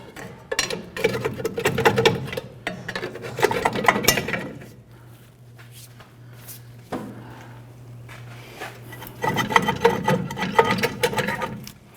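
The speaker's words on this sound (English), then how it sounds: "Just using our pry bar, we're gently walking the drum off." Metal scrapes and clunks as a pry bar gently walks a brake drum off the rear axle of a Chevrolet S10, coming in bursts of grinding and rubbing with a quieter steady hum between them.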